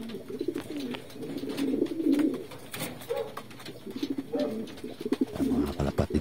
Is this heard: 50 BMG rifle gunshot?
no